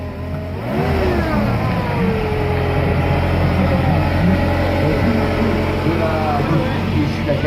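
Vintage Renault 4CV with the cast-iron Cléon-fonte engine, revving at a classic car parade in Rennes; a loud nearby mid-pitched engine rises and falls in pitch under steady running noise after a brief quieter start.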